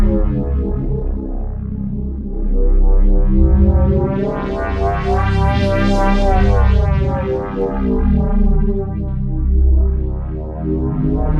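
Omnisphere 3 synth pad run through a polyphonic frequency shifter modulated by aftertouch, a loud dense drone whose bright upper partials sweep and swell in the middle before settling, with no voices.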